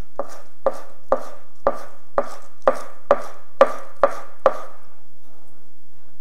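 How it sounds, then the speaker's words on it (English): Green onion being chopped with a knife for a jicama, apple and pear slaw, about ten crisp, evenly spaced cuts against a board, close and clear, then quiet. "we're going to finish off by adding in some chopped green onion"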